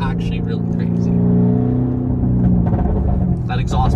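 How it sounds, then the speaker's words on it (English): Lamborghini Urus engine accelerating hard with a deep rumbling exhaust note that swells and then breaks into crackles toward the end, loud and close, with someone talking over it. "That exhaust popping does sound really, really good."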